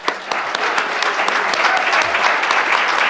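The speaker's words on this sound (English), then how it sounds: "Give them a round of applause." Conference audience applauding in a hall, sustained dense clapping from many hands, loud and even throughout.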